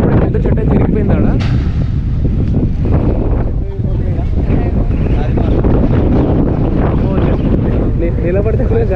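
A strong wind blows loudly and continuously on a motorcycle road trip from Hyderabad to Ladakh. It buffets the microphone with heavy rumbling gusts, and a voice speaks beneath the noise.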